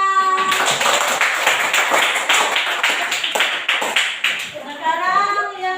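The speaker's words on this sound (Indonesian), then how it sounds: "Iya, tepuk tangan." A primary school class claps together during a Grade 3 lesson in Indonesia. The applause is steady, loud and close, with many small hands beating for several seconds before it fades.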